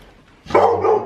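Winston the puppy lets out a single loud, close bark that lasts about half a second after a quiet lead-in.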